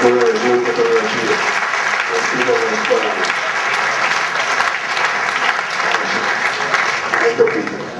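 An audience at a political rally in Reggio Emilia gives loud, continuous applause for about eight seconds, with crowd voices and some speech mixed beneath the clapping.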